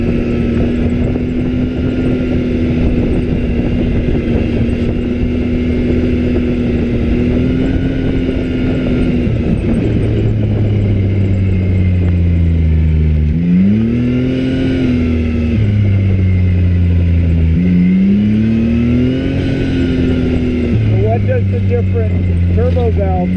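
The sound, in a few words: UTV turbo blow-off valve and engine revving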